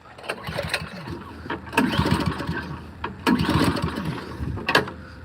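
A Craftsman/Troy-Bilt snow blower engine, primed and choked, cranks and catches in loud bursts, sputtering and surging unevenly close by with sharp mechanical clanks between pulls.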